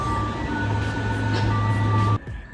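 A train rumbles past nearby in Berlin with a steady low drone and a high whine, ending abruptly as the noise drops away.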